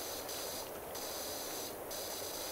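A pressure washer sprays in PowerWash Simulator, giving a loud, continuous hiss of water with brief shifts in texture as the jet moves.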